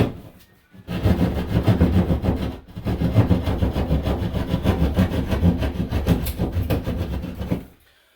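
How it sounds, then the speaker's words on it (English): Hand saw cutting a box-shaped hole into a wall for a plumbing trap arm job, steady back-and-forth strokes running loud and close for several seconds with one brief pause, no talk. "we'll go ahead and cut a hole in the wall."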